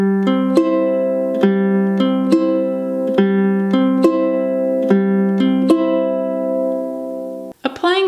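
A ukulele plays a fingerstyle picking pattern from a song at song tempo, with clear plucked notes in a steady repeating rhythm, close and alone, ending with a brief handling noise.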